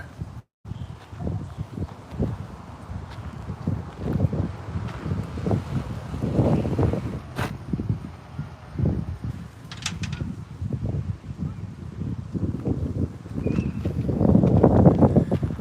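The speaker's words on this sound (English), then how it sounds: "The wind is nice because it's hot out." Outdoor wind at the Coloma, California gold discovery site gusts steadily against the microphone, a low buffeting rumble with soft thumps and rustles that swells louder near the end.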